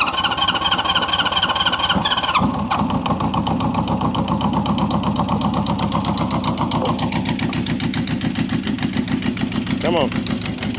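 A 1972 Honda CB350 Four motorcycle engine, revived after sitting, cranks and catches, then settles into a loud, steady, slightly uneven idle that runs throughout, close by, with a brief voice near the start.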